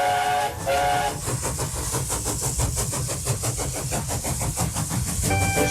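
Small narrow-gauge steam engine Skarloey gives two short, shrill whistle toots, then chuffs along in a steady rhythmic beat under the running engine noise, closing with another whistle.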